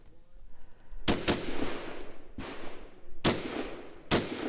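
Carbine gunfire at a shooting match, five sharp loud shots spaced roughly a second apart, each with a ringing echo tail over outdoor background noise.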